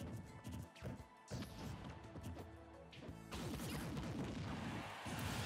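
Grenades explode during a Super Smash Bros match between Snake and Pichu, with loud crashing blasts and whacks layered over busy game sound effects and music, dense and continuous.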